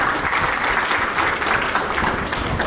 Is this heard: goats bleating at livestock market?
no